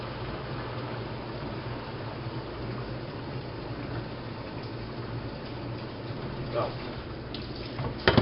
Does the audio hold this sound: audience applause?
no